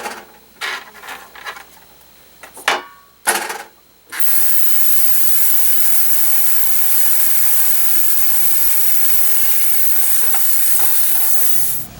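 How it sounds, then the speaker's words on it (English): Ultrasonic cleaner cleaning knobs from a Toshiba SA-420 receiver, a steady bright hiss running for about eight seconds after a few clicks and handling knocks at the start. "time for the knobs to go in the ultrasonic cleaner."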